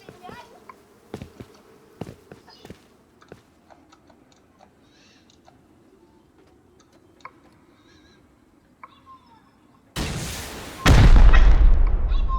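Gunfire erupts during a raid in the game Rust: sparse sharp cracks and faint clicks over quiet background, then a sudden loud burst of heavy firing near the end.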